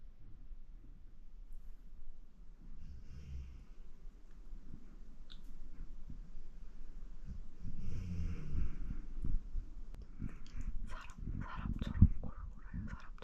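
A dog snores and snuffles softly in a quiet room of a house in the English countryside, with low rumbling breaths and occasional snorts growing a bit louder near the end.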